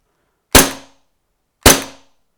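Two sharp, loud shots from a Tokyo Marui USP Compact gas blowback airsoft pistol, about a second apart, each a crisp crack with a short decaying tail, close by and without talk.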